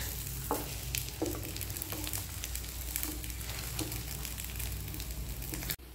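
Food fries in ghee with a steady, close sizzle and occasional stirring scrapes in the pan, continuous throughout and no talking.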